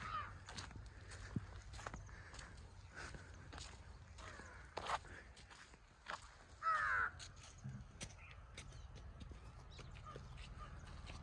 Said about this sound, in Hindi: देखिए जो कौवे है ना उसको खाने के लिए देखो ऐसे घूम रहे हैं इधर साइड में।